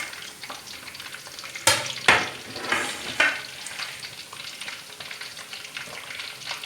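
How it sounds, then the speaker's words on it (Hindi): Chicken leg pieces for Lahori charga sizzle steadily in hot oil, a close, continuous crackle broken by a few sharp spattering pops and stirring clatters near the start, with no talking. "अब लेग पीस फ्राई हो रहे हैं।"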